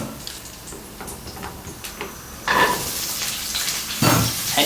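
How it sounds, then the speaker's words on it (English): Green beans dry frying with garlic in a hot pan over medium heat, a steady soft crackling sizzle that swells louder partway through with occasional brief scraping, no voices. "And dry fry over medium heat"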